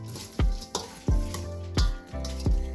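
Brown sugar and cinnamon are mixed in a bowl, giving about five distinct, close scraping and tapping strokes of a utensil against the bowl at an uneven rhythm over a low background hiss.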